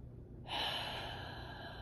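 Deep breath taken during an EFT tapping session on worry, a sudden close inhale that swells into a long, steady airy exhale, heard alone without talk.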